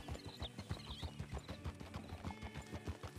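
Horse hooves from Red Dead clip-clop at a steady walking rhythm on the ground in Blackwater. The hoofbeats are faint and repeated under a soft layer of background ambience.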